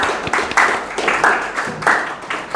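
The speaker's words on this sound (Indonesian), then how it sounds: "Tepuk tangan." An audience at a university student seminar claps together in a steady rhythm, with repeated bursts of applause close by and fairly loud.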